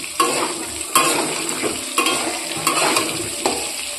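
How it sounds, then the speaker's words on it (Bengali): Potatoes fry in oil in a pan while being stirred, giving a steady close sizzle broken by periodic scraping stir strokes roughly every second, with no talking. "ঢাকাটা খুলে দেখছি, আলু ভাজা হয়ে গেছে।"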